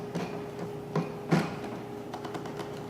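A few scattered plastic clicks and scrapes from a fermenter part being screwed onto the bottom of a Catalyst fermentation system, close and fairly quiet, with no talking.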